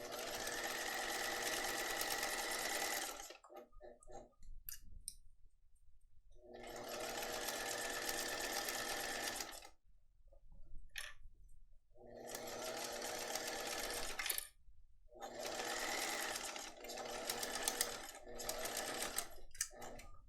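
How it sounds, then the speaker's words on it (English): Hand-crank sewing machine fitted with a zipper foot, stitching fabric in several long bursts of steady mechanical whirring, separated by short pauses with soft handling clicks; close and fairly quiet, no voices. "zipper foot is on, needle is moved over, test hand crank, and it's good to go. So I can sew this down."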